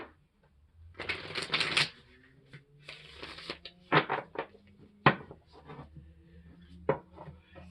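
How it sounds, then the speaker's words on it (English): A deck of tarot cards is shuffled up close, a ruffling riffle burst followed by several sharp taps and softer card slides, with a faint voice murmuring underneath. "let's go ahead and give this one good shuffle."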